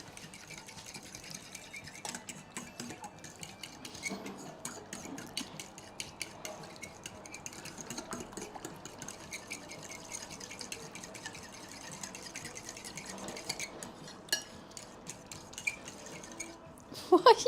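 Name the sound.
whisking with a fork in a bowl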